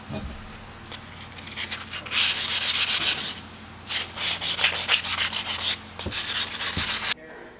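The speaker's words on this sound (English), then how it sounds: "First we're going to sand, do a little wax and grease remover" An air conditioner part from an Audi Coupe GT is sanded by hand before painting, making loud, close, rhythmic rasping strokes in three bursts with brief pauses between them, and no talk.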